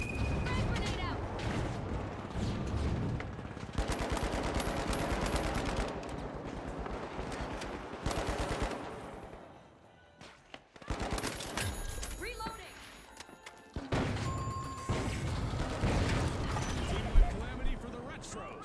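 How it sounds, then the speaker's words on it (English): Grenade launcher and other gunfire in the video game The Finals, with dense bursts of shots and booms, a short lull, then more heavy fire; voices talk over it. "That guy had a grenade launcher?"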